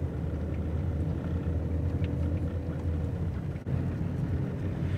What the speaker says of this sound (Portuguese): vem um bocado de moto ali